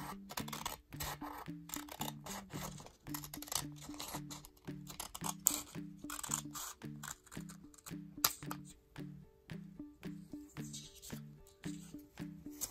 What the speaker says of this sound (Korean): 지금 접은 선을 가위로 세 장 동시에 자를게요.